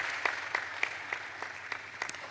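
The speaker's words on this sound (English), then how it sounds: "A round of applause for her." A small scattering of claps at a water and sanitation innovation fair, a handful of distinct, fairly faint hand claps spaced out against a quiet room hum.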